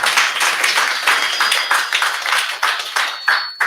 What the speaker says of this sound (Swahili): Pigieni makofi